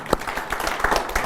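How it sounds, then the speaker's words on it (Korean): Brief burst of audience applause in a hall at a Buddhist monk's Dharma talk, greeting a questioner; scattered claps over a short stretch, moderately loud with a faint murmur. "박수로 맞으세요"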